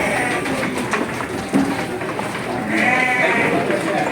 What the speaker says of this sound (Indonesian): Domba gembel, gitu, domba gembel ya, domba gembel, ya.